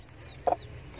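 Fayoumi chicken giving a single short cluck, close by and fairly loud against a quiet, low background hum.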